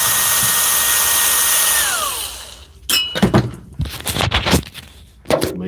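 A Milwaukee M12 cordless drill whirs steadily and close, then winds down, followed by several short bursts of driving screws with scraping and clattering between them.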